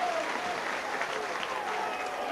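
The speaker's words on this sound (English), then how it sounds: "Mick Morgan getting a great ovation from this crowd." A rugby league crowd gives Mick Morgan a sustained ovation at an Oldham versus Warrington match. The applause is broad and steady, filling the whole moment.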